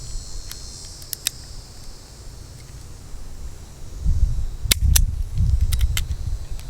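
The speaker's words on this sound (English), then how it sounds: "You can pull the trigger and the cylinder will still cycle." A Smith & Wesson .38 Special revolver's trigger is pulled and its cylinder cycles, giving a few sharp metallic clicks, some in quick pairs, against quiet outdoor background noise, with a low rumble near the end.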